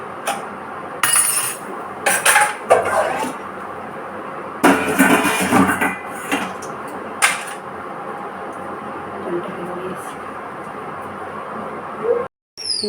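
Metal pots, pans and utensils clatter and clink in irregular bursts as they are picked up and set down at an outdoor washing spot, close and sharp between quieter gaps.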